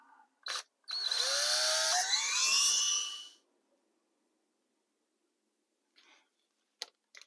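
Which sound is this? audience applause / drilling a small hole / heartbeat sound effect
drilling a small hole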